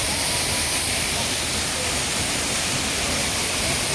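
Keezhanthoor waterfall in Munnar, inside a forest reserve, roaring as a loud, steady broadband rush of falling water with no break.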